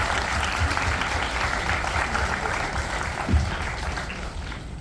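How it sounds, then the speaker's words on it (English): A graduation crowd applauds graduating Grade 6 students, with sustained even clapping from many hands filling the room at a steady level. "let's give them a big round of applause"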